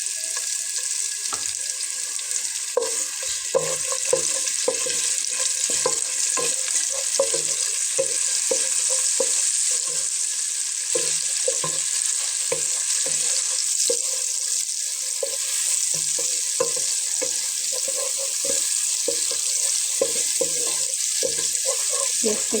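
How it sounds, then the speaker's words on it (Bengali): Chopped onions frying in plenty of oil in a pan for a Bengali masoor dal lunch, a steady broadband sizzle running throughout with frequent soft stirring knocks and scrapes, close and fairly loud, no talking. "পেঁয়াজটা একটু লাল করে ভেজে নেব।"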